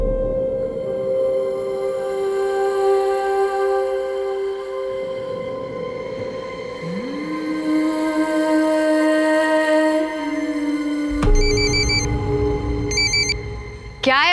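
A telephone rings with a short, repeating electronic ringtone pattern near the end, heard over steady background music.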